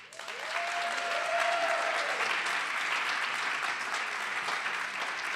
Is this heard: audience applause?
yes